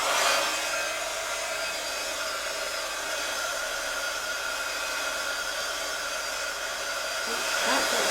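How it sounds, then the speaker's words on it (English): A heat gun blasts air in a steady, loud broadband roar over handmade cards, clearing glue strings from butterfly and lace die cuts; the rushing hiss holds constant throughout with no talking. "take your hot tool, your heat gun, and just give it a quick blast"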